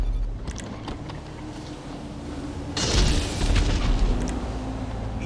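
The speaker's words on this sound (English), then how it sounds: "All we doing is throwing each other with bombs" Bombs exploding in the Stand Your Ground video game, a heavy booming blast erupting midway over a steady rumbling background, loud and close with no talk.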